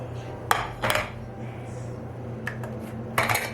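A dish is fetched and handled in a home kitchen during raisin bread baking, giving a few short clinks and knocks at close range, with quiet pauses between them.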